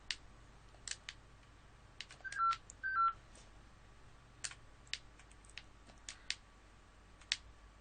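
Telephone tones from an incoming phone call heard faintly in the background, a scattering of short beeps and tone pairs spread irregularly over several seconds.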